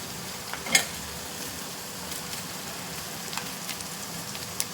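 Lentils and dals fry in hot oil for a pulihora tempering, a faint steady sizzle with a few sharp pops and spatters scattered throughout, no talk.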